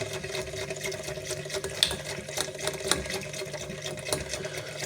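Sugar and chicory are stirred into warm water for homemade kvass, a continuous swishing and gentle sloshing with a few small clinks, steady and close, with no speech.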